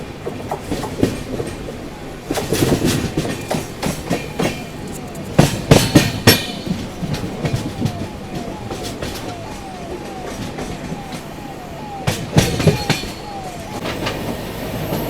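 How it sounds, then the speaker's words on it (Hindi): Shatabdi Express train with a Vistadome coach running along an Indian railway line, steady rumble of wheels on track with repeated clickety-clack bursts and short squeals as the carriages cross rail joints, no talking. "यहाँ से देखो बगल वाली लाइन पे अपनी ट्रेन जा रही है"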